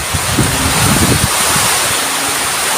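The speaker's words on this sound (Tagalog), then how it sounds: "Grabing lakas ng hangin." Strong typhoon wind gusts roaring steadily across the microphone outdoors near banana plants, loud and close, with a brief low rumble early on and no voices.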